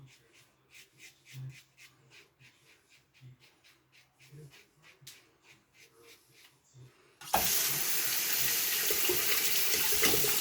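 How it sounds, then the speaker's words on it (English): Faint rubbing and light scraping during a shave give way abruptly to a tap gushing loudly and steadily for rinsing, the running water continuing to the end. "Rinse again."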